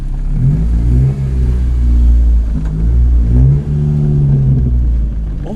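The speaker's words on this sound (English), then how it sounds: "the exhaust sounds good." A car engine rumbles steadily with a deep, throaty exhaust note, swelling and dipping slightly as the revs change, close and loud throughout.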